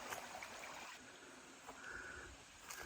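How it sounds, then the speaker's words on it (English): A small waterfall on a creek along a mountain trail gives a steady, moderate rush of falling water, continuous and fairly close, with no talking over it. "this is Matt's Creek, little waterfall there"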